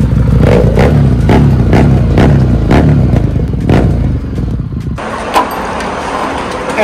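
A new Harley-Davidson motorcycle engine revs loudly and close up in repeated throaty bursts, then settles to a lower idle.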